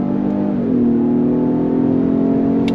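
Inside a 2022 Ford Explorer King Ranch in sport mode, its 3-liter EcoBoost V6 and 10-speed automatic pull hard under throttle, a steady rising engine drone heard from the cabin with no talking.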